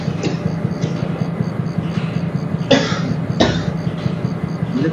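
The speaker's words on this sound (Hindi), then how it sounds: "मुझे खांसी हो गई" A man with a cold coughs a few times near the microphone, short rough bursts spaced over several seconds, over a steady low rumble from a train simulation running underneath.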